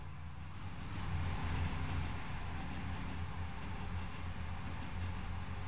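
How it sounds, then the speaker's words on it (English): A diesel railcar runs along the tracks in the video game Diesel Railcar Simulator, giving a steady low rumble with a broad wash of noise and a slight swell in loudness. "We're driving this train all the way."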